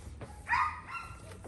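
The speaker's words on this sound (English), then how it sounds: "That fucking dog over there is going crazy." A dog barks in the distance near an outdoor garage where a car fender is being wet-sanded, a few faint yaps over quiet background noise.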